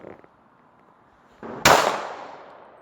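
A single sharp black powder revolver shot fired at a cup on a railing, loud and close, with a long trailing echo after a quiet lead-in.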